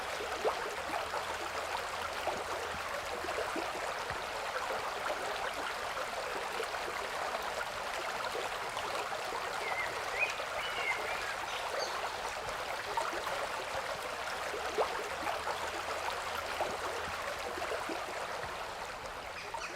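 A stream in Cornwall flowing through a ford beside a footbridge makes a steady, soft, even rush of water, continuous and moderately quiet, with no voices over it.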